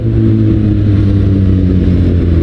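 Kawasaki Ninja ZX-6R sport motorcycle fitted with a Burnout exhaust, revving loud and close in a continuous throaty drone with strong low engine harmonics and no voices.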